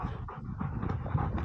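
A bird dog pants close by in quick, rhythmic, breathy bursts, steady throughout over outdoor background noise, with no talk.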